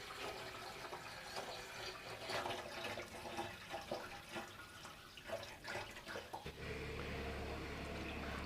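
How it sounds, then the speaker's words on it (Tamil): Water splashes and trickles steadily into a motorcycle fuel tank, a continuous close pour with gurgling, filling sound that settles into a steadier rush toward the end. "ரியலாக தண்ணி ஊற்றிக்கிட்டு இருக்கிறோம்"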